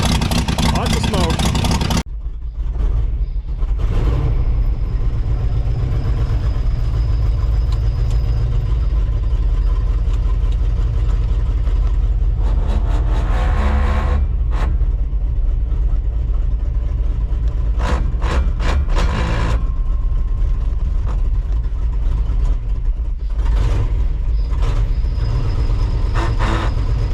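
A 1959 Ford F-600 straight truck's Y-block V8 runs with a steady, loud, rough low rumble throughout, while people talk over it.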